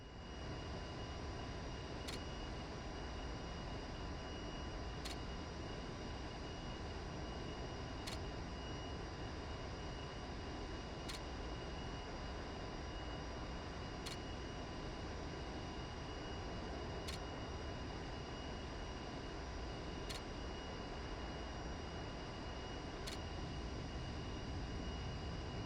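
A fighter aircraft climbs in a flight simulator game with a steady, broad engine roar throughout, marked by faint high ticks repeating every few seconds.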